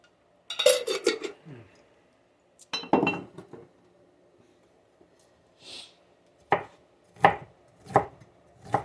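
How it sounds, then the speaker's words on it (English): Knife chopping fresh ginger into little pieces on a board: a quick burst of cuts, a pause, another cluster, then four evenly spaced separate chops, close and crisp with no talking. "So I'll just cut into little pieces."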